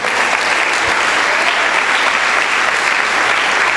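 Loud, dense applause from a church congregation during a Portuguese-language worship program, steady and unbroken throughout.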